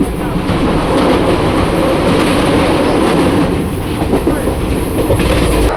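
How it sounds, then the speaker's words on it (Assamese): A passenger train runs on rails in Assam near Kokrajhar and New Bongaigaon, making a loud, continuous rumble with rhythmic wheel clatter heard from on board. It stays steady throughout without clear speech. "ট্ৰেইনটো লেট চলি আছে"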